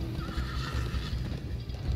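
Horse neighing and galloping hooves from the video game Minecraft Story Mode, a loud whinny with steady hoofbeats running underneath throughout, amid game music and noise.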